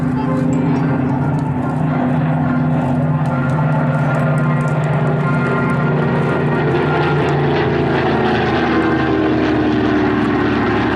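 Loud, droning piston engines of a WWII memorial flypast at an air show (a Merlin-engined Hurricane, a Mark 19 Spitfire with a Griffon and a Dakota), a steady close roar that holds for the whole stretch, with a voice beneath it.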